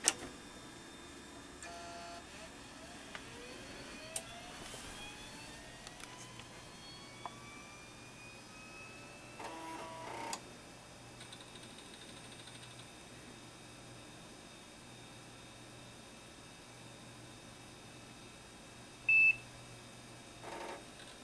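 An HP Vectra PC running Windows 3.1, with 48 MB of RAM, a half-gigabyte hard drive and a CD-ROM, boots up with faint beeps, clicks and drive whirs over a steady fan hum, ending in a short tone.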